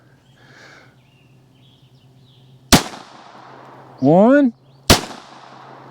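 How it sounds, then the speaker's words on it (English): Winchester White Box .22lr rounds fired into ballistic gel outdoors: two sharp, loud gunshot cracks about two seconds apart, with a short tonal chirp between them and faint talk early on. "Here we go, 6 rounds in the gel."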